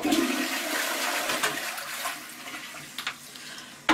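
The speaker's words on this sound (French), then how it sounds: "Je vais tirer une dernière fois la chasse d'eau." A ceramic toilet flush rushes steadily, water swirling and draining with a few sharp splashes near the end.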